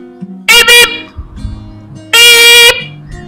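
A man imitates a motorbike horn with his voice, giving two bright, nasal honk bursts, a quick double beep and then a longer one, loud and close with brief murmurs between.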